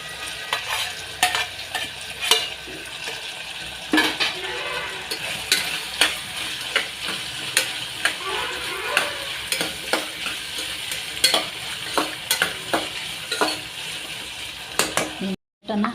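Chopped capsicum sizzles and fries in a pan for vegetable pulao while a spoon scrapes and stirs in a steady repeated rhythm, with loud close clanks against the metal.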